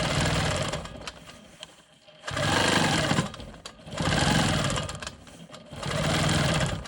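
A sewing machine quilting a rolling stone quilt block runs in three long, steady bursts of rapid, buzzing stitching, close and fairly loud, with brief slower pauses between runs.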